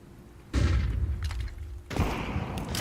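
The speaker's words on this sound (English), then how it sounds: "Throw in the flashbang!" Flashbang grenades burst in Counter-Strike 2, two heavy booming blasts about a second apart, loud and close with a ringing tail after each.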